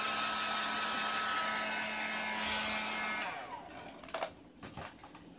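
A hair dryer blows on the bangs, its steady loud whir running for about three seconds before switching off, followed by a few faint small sounds.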